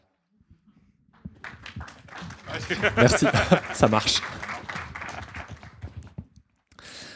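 An audience applauds at a book festival author talk. A few scattered claps swell into a dense round of clapping that peaks midway and then thins out, and a voice speaks briefly at the start.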